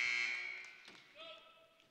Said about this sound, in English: The substitution buzzer.